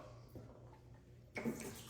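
Water poured into a water bottle holding a powdered drink mix, a brief splashing pour swelling in near the end after a quieter stretch of room noise.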